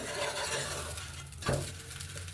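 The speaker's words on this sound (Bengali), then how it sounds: "এবার আমি আর এক চামচ ঘি দিয়ে দিলাম চারিপাশ থেকে তাহলে নিচের দিকের অংশটাও ভালো করে ভাজা হবে" A chhana paratha fries in ghee on a non-stick pan, with a continuous sizzle under stirring and scraping sounds and one sharper utensil knock near the middle.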